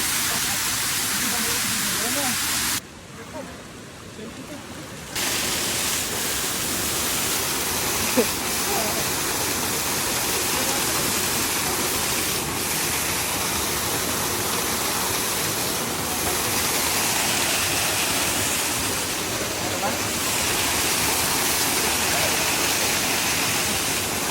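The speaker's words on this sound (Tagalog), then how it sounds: "Ayun yung falls." Ditumabo Mother Falls waterfall in Aurora roars as a steady, loud broadband rush of cascading water, continuous throughout with a brief dip near the start and faint voices underneath.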